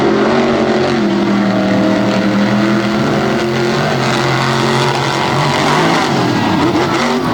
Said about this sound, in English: And the big Hemi power wins out as he slides around, doing a nice job of keeping it out of the wall.